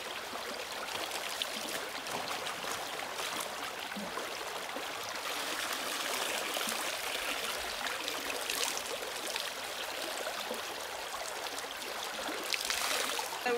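Clothes being washed by hand in river water, a steady broadband wash of flowing and trickling water with soft splashes running throughout, close and fairly even in level, with no voices.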